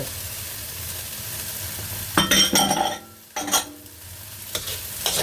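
Ham being stir-fried in a pan for kimchi fried rice: a constant sizzle broken by bursts of vigorous spatula scraping and clinks against the pan, close up and without speech.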